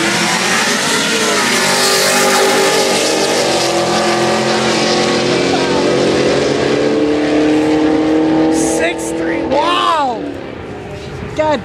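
A white Buick Grand National and a Nova drag race, with loud engines roaring and accelerating hard past close by, the pitch climbing through gear changes before the noise drops away and a brief pass sweeps through near the end.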